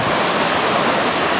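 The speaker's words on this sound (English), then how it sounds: "So here in this natural amphitheatre is Hardraw Falls." Hardraw Falls, a long unbroken waterfall in a natural rock amphitheatre in England, pours with force as a steady, dense, full-band roar, close and continuous with no talk.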